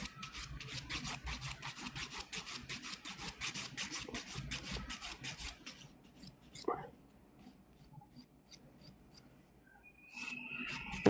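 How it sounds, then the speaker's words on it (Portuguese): Filing an acrylic nail, with rapid rhythmic rasping strokes for about six seconds, then quieter handling sounds, close and fairly soft, with a voice speaking faintly in the background. "então agora podem estar à vontade para limar"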